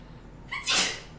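A single sharp sneeze bursts out midway through a quiet stretch in a game session, a short breathy onset followed by a louder explosive release that fades quickly, heard fairly close with no talk over it.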